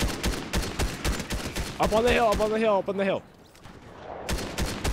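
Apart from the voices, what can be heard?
gunfire in the video game Fortnite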